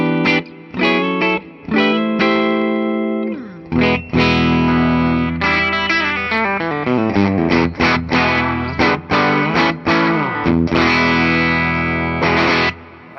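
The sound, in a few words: 2008 Gibson Les Paul Custom 1968 Reissue electric guitar played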